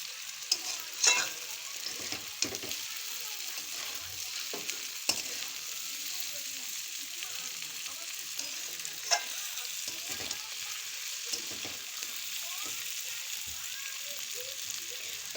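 Chowmein frying in a pan and stirred a little at a time, a soft steady sizzle with occasional scraping knocks of the utensil, no speech.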